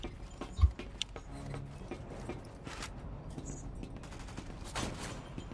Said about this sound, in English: Where's that shooting from?